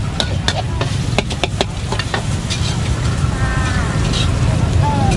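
Pork and holy basil stir-fry (pad kaphrao) sizzling loudly in a wok at a busy cheap street food stall, with steady frying hiss and repeated sharp scrapes of the spatula while people talk nearby.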